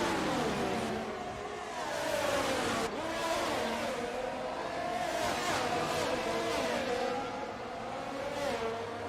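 Race car engines in a Canadian Grand Prix sim race whine and rev steadily, with shifting pitches as cars run side by side and pass, under a commentator's voice.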